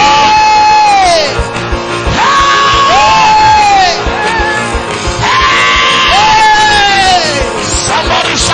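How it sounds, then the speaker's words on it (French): A church congregation at a healing service shouts, yells and cheers loudly and continuously, with rising whoops repeating across the whole stretch in a packed, echoing room. "somebody will jump, somebody will shout."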